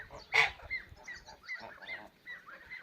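Half-grown goslings on a goose farm honking, one loud nasal honk standing out from a string of softer, overlapping calls nearby.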